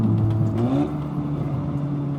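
A 400bhp Audi S3 engine pulls hard on back roads, revs rising in a smooth sweep then settling into a steady loud drone, heard from inside the car with no talk.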